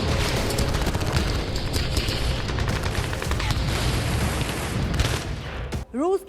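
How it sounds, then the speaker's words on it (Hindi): Dense, rapid bursts of gunfire from Ukrainian soldiers in the war with Russia crackle continuously, loud and close, before cutting off near the end. "यूक्रेनी आर्मी का जवान गोलियां चलाते हुए तेजी से आगे बढ़ रहा है।"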